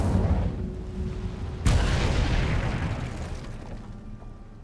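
The Incendio fire spell cast in Hogwarts Legacy lands as one sudden, loud burst that rolls into a fading roar of flame over a low rumbling backdrop.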